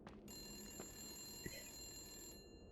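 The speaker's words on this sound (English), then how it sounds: "I hear a phone ringing." A telephone rings in the video game The Suicide of Rachel Foster, a faint, continuous electronic trill that sounds steadily and then cuts off near the end.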